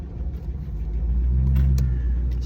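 An HSV R8 Clubsport's pushrod V8 revs up into a loud, deep rumble that swells and holds near, then eases slightly, with no voices over it.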